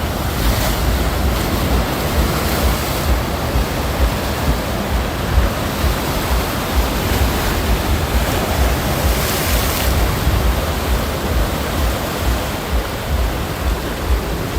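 Ocean waves crash and wash continuously onto the shore at Sacheon beach in Gangneung at night, a loud, dense roar with wind noise and no pauses.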